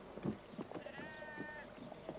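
Sheep bleating on a farm, a single drawn-out bleat rising over a rough background of low rustling and scattered knocks.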